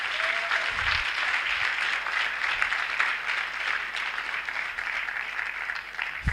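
Sustained hand clapping from an audience at an induction ceremony, dense and even for several seconds, moderately loud with no voices over it.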